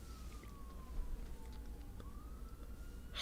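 Emergency sirens wail faintly in the distance, a thin slowly gliding tone over a steady low hum of background noise, with no voices over it.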